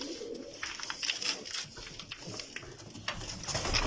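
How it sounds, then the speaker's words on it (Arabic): Paired breeding pigeons in a loft with eggs and newly hatched chicks coo repeatedly at close range, soft rolling calls mixed with light fluttering and pattering movement. "هاي حمام مشروط كله شد وبيض وفراخ وكل شيء"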